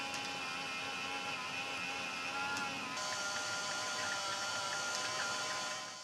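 An Aqara motorized roller blind driver runs with a steady, smooth electric whine and hum from start to finish, close and moderately quiet, its pitch shifting slightly partway through.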